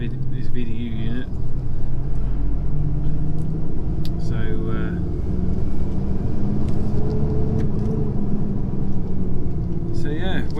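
A Class 2 HGV lorry drives along a road with a steady low engine rumble and road noise throughout, heard from inside the cab, with occasional brief higher tones over the drone.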